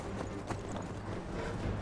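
A horse gallops in Skyrim Special Edition, a quiet steady run of rapid hoof clip-clops under a faint game ambience, with no talk.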